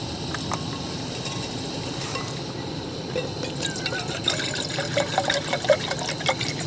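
Two cups of water are poured into a pot sitting on a lit camp burner at a lakeside campsite, a continuous close splashing and gurgling over a steady background hiss, with faint metallic clinks.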